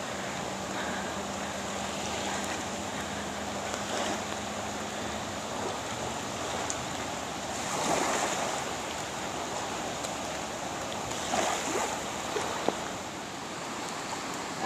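Constant broad rushing of the flooding White River in Sharon, Vermont, a steady roar that barely varies, with no voices.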